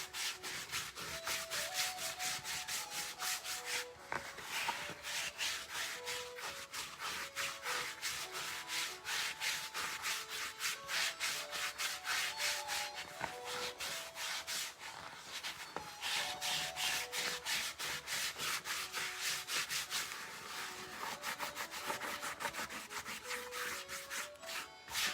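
Leftover multigrain bread dough is scraped off a work surface in rapid, steady rasping strokes that run on for a long stretch at close range, under quiet background music with held melodic notes and no talking.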